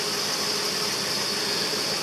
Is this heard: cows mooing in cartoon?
no